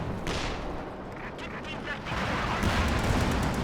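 Grenade blasts and artillery-like booms rumble continuously through a chaotic video game battle, loud and dense with a heavier surge near the end, while a voice talks over the din.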